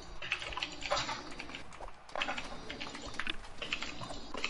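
Computer keyboard typing during a Fortnite gaming session, a faint, dense patter of rapid keystrokes with a brief pause near the middle.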